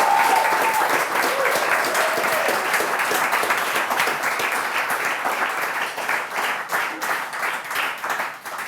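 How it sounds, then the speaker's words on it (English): An audience at a coding bootcamp demo day applauds the teams, a loud dense burst of clapping that slowly thins and becomes patchier toward the end. "A big round of applause to all the teams"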